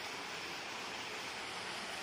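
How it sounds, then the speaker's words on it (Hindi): Water from the waterfall at the Amreshwar Mahadev temple in Ranthambhore spills into a pool below. It makes a faint, even rushing wash with no voices over it. "ये छठ बारह महीना इतना झरना तो वहां से गिरता ही गिरता है"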